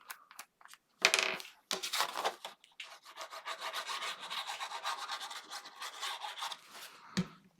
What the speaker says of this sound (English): And fold and burnish